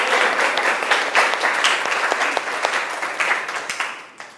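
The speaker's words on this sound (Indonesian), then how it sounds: "Tepuk tangan buat kalian semuanya." A group of students claps in a classroom during a science lesson, a brisk burst of applause with sharp individual claps that swells and then thins out over about four seconds.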